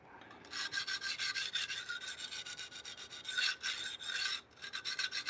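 Knife blade being sharpened on a 400 grit vitrified diamond stone, a steady run of rhythmic abrasive scraping strokes, close and fairly loud, with brief pauses between passes and no talking.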